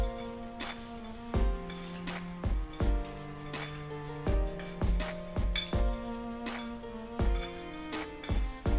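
Fried sabudana lahya and fried chillies mixed in a metal pan, with a steady run of clinks and scrapes from a spoon against the pan, repeated at an uneven pace.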